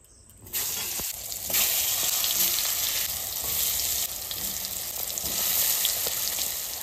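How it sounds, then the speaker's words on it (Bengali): Eggplant slices seasoned with salt and turmeric sizzle steadily in a hot frying pan, a close, continuous crackle with occasional stirring and no voices. "আমি আগে বেগুনটা ভেজে নেব"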